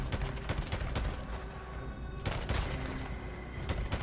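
Rapid gunfire from the game Days Gone as a horde of zombies is mowed down at a corner, with close, bursting shots and heavy thumps repeating in quick succession across the moment, no talk over it.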